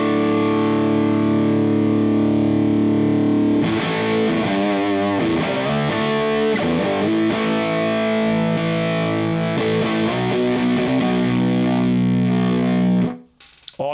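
Electric guitar played through a HangmanFX overdrive pedal, a sustained distorted chord followed by a run of driven notes and riffs, then an abrupt cut to near silence.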